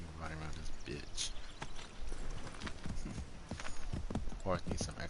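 Horse hooves clip-clop at a steady walking rhythm while riding in the video game Assassin's Creed 3 Remastered, the clear hoofbeats running under someone talking.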